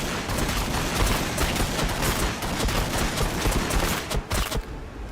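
Continuous heavy gunfire in the Warhammer 40,000 Battlesector strategy game: dense, loud volleys of rapid shots overlapping throughout, briefly thinning near the end.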